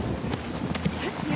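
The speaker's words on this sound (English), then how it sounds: "We can use that horse!" A horse galloping in the video game The Last of Us Part II, brief rapid hoof beats heard close and fairly loud against a dense game background.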